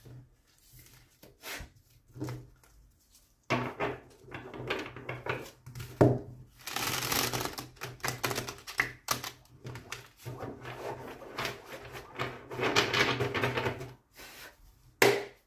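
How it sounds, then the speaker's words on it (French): Yggdrasil oracle cards are shuffled and set down on a surface, giving irregular bursts of papery riffling and soft taps, close and fairly quiet, with pauses between. "Allez, je pose quelques cartes, pardon, de cet oracle Yggdrasil."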